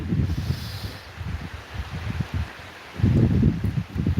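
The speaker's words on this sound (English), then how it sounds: "it's windy too" Outdoor wind buffets the microphone in low, uneven rumbling gusts that swell louder near the end, with a faint rustle behind it during a rainy day under shelter.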